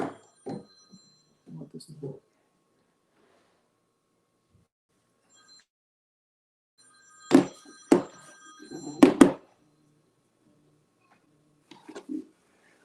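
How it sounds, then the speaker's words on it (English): A large telephone ringer sounds in two loud bursts, with quieter rings after them, while someone speaks in short phrases before and between them in an otherwise quiet room. "I put this large ringer in"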